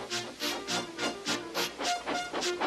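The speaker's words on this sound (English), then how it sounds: "with much noise and blowing of steam, got ready to back onto the train" Rhythmic hissing chuffs of a steam locomotive in a Roblox game, evenly spaced bursts repeating at a steady pace, fairly quiet and close.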